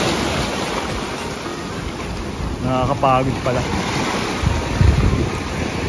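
Sea waves and wind at a beach in Japan wash and roar continuously, with wind buffeting the microphone and someone speaking briefly over the surf.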